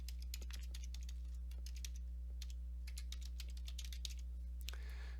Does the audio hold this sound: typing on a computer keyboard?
yes